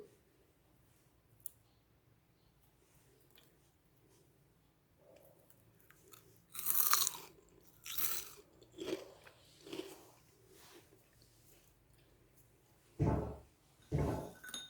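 Crunchy homemade keto fries being chewed close up, a few loud crisp bites and crunches in scattered bursts over a quiet background.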